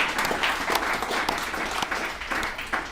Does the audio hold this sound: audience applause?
yes